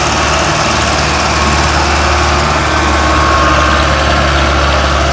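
A Powertrac 439 tractor engine runs steadily and loudly at close range, a dense continuous diesel drone with a low throb and no pauses throughout.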